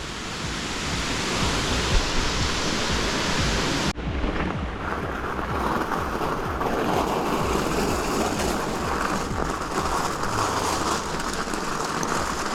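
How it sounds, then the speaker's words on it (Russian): A small mountain waterfall on the road between Yalta and Ai-Petri in February pours with a steady, dense rushing hiss, close and unbroken, with no voices. "О, прикольно. Течет водопадик."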